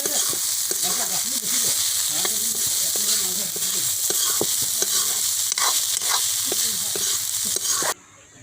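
Fish with bamboo shoot frying in a pan, stirred steadily with a constant loud sizzle and repeated scraping strokes, close up, until it cuts off near the end.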